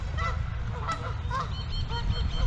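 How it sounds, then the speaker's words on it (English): Geese honk repeatedly around a small lake at a zoo, a busy overlapping chorus of nasal calls, fairly close, with other birds and a low outdoor rumble beneath. "a little lake here that just draws all the birds"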